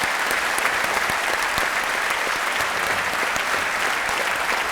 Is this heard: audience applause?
yes